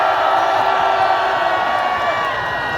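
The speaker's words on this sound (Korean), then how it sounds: "함성을 보내시기 바랍니다." A large outdoor crowd at a Gwanghwamun rally against the presidential impeachment roars in sustained cheering and shouting, a loud, continuous wall of voices that holds for the whole stretch.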